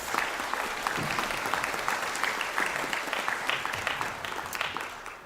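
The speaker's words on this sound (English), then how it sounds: "And could we have a round of applause, please," An audience at a university conferring ceremony gives its graduates a round of applause, a dense and continuous wash of clapping from a large crowd that lasts throughout.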